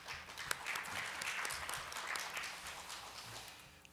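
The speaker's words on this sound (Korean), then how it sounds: "여러분 힘찬 박수 부탁드리겠습니다" Applause from the audience at a conference session, welcoming a strategy director from Schneider Electric to the stage; dense, moderately faint clapping that holds steady and then tapers off slightly toward the end, with no talking over it.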